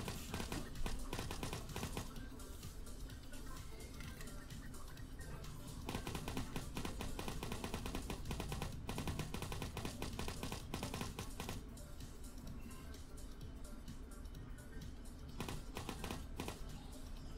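Rapid gunfire in a team battle video game, dense continuous bursts of shots throughout, loud and busy with layered game effects and no pauses.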